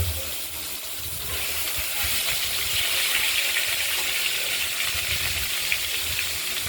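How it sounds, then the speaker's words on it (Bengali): Pointed gourd fries in oil in a wok, giving a steady, close sizzling hiss that runs continuously and swells slightly partway through. "পটলগুলোকে কড়াইতে তেলে ভেজে নেব"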